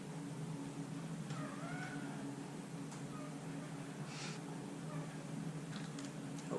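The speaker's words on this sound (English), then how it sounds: "Hopefully everyone is okay with cat sounds." A cat meows several times, faint and somewhat distant, over a steady background hum with occasional soft clicks.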